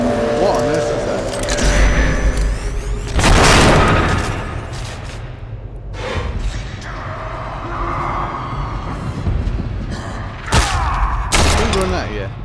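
Weapon fire in the sci-fi horror game The Persistence bursts out in loud, sharp blasts, one heavy salvo near the start and a few later cracks, over rumbling game ambience while someone talks throughout.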